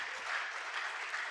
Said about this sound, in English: Please, can we give her a warm round of applause as she comes up to give her talk?